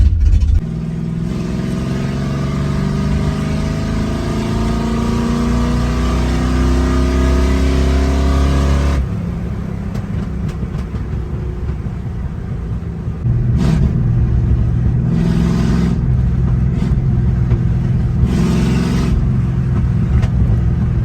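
A Ford Mustang Fox Body engine idles with a deep, loud rumble, then several sharp revs rise and fall in short bursts, with possible exhaust pops, close by.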